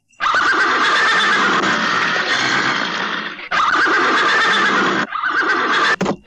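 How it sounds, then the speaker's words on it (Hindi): A horse lets out long, loud neighs close by, two drawn-out whinnies followed by a shorter one, with brief breaks in between. "आपके घोड़े को क्या हो गया आज?"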